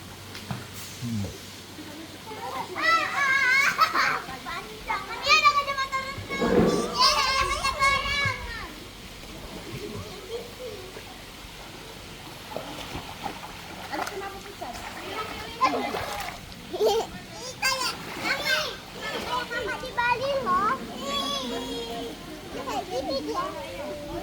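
Children play and splash in a shallow pool at a water park, shrieking and chattering with intermittent water splashes, while an adult talks now and then.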